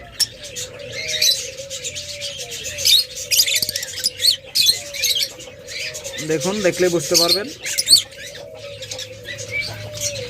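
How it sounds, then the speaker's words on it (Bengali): A pair of Fischer's lovebirds at their nest give rapid, sharp chirps and squawks close by, while someone talks over them at intervals. "এই দেখুন, দুইটা পাখি সামনে আসছে"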